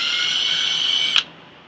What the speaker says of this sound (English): drill it out